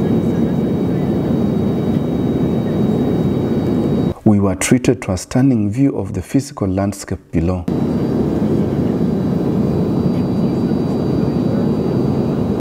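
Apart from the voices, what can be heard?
airplane in flight above the clouds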